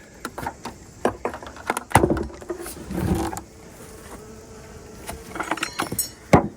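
A buzzing hum of bees close by, mixed with clicks, knocks and rattling handling noises.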